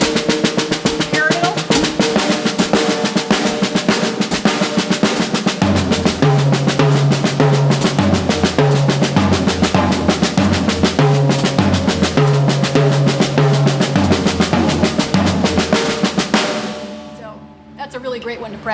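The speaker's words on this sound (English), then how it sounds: "Paradiddle sticking, accenting the beginning of every diddle" Continuous snare drumming in paradiddle-sticked triplets, steady fast strokes with accents at the start of each diddle forming a rolling triplet feel, played loud and alone before ending in a ringing decay.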